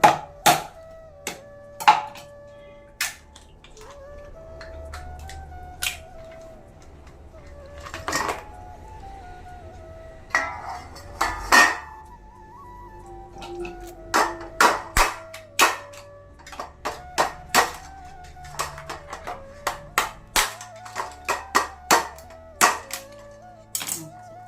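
Crab legs for a homemade crab curry are cut with sharp, irregular cracks and snaps, close and loud, some in quick clusters, against a quiet background.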